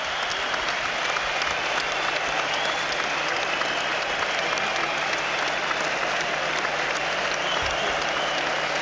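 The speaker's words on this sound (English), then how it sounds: "everybody here in the crowd rises to their feet, applauding at the moment" A standing boxing crowd applauds in a large arena, a dense, steady roar of clapping that fills the space for the whole stretch without letting up.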